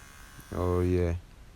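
Hair clippers with the guard lever open buzz briefly for about half a second during a high taper fade, a close, steady electric hum that starts and stops sharply.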